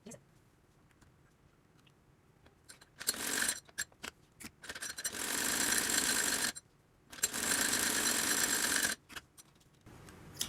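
A home sewing machine stitches a cloth cover in two sustained runs of steady mechanical whirring, separated by a pause and preceded and followed by quiet handling clicks.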